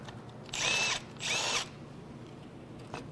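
A power tool spins out a bolt from a 2019 Ford F-150 3.5L EcoBoost engine during a teardown after major engine failure, in two short close whirring bursts separated by a brief pause, with faint workshop noise afterward.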